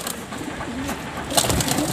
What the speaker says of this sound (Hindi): फ्रेंड्स ये सारे कबूतर हैं